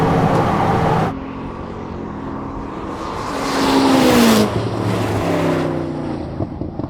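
A Ferrari SF90 XX accelerating hard in a drag race against a Koenigsegg, its engine note climbing through rising, gear-shifting pitch sweeps, loud and close, with a roaring surge midway.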